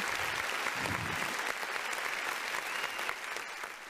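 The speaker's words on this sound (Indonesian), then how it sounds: "Luar biasa, tepuk tangan" Steady applause from an audience at an ideathon event runs unbroken for about four seconds, a dense even patter at moderate volume with no voices over it.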